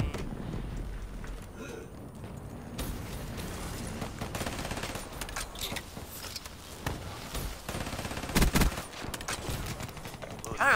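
Hip-fired bursts from the HLX 4 weapon in a Call of Duty-style video game, rapid gunfire cracks scattered through busy game audio, with sharper, louder shots near the end.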